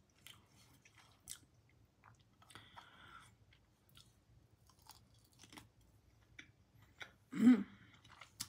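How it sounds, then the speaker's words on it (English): Quiet, close chewing of a spoonful of corned beef and cabbage soup with tomato and carrot: soft wet crunches and squishy bites scattered across several seconds, followed by a louder swallow or mouth sound near the end. "That first bite of cabbage was really strong"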